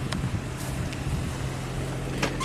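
A Nissan engine idles steadily a little high after a throttle body cleaning, with idle control code P0507, a constant low hum mixed with some wind noise and no talking.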